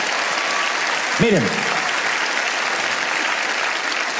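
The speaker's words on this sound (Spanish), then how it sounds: "Alguien tiene que aplaudir más que eso si lo crees de verdad" A live audience at a Spanish-language motivational talk breaks into dense, steady applause that fills the whole stretch, with a voice briefly calling out over it near the start.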